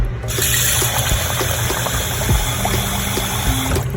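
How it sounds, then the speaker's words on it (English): Water pours steadily into a mixture of dough for kneading, a continuous close-up splashing trickle lasting several seconds with no talk. "I'm gonna add a little bit more water."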